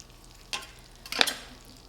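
Butter and garlic cook in a pan with a soft, steady sizzle, broken by two short bursts of louder crackling and stirring, the second one stronger.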